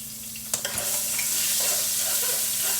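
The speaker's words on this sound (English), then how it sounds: "And let the garlic cook just for a second." Garlic and ginger paste sizzle and fry in a hot pan, a steady close crackling hiss with a couple of sharp utensil clicks early on as it is stirred.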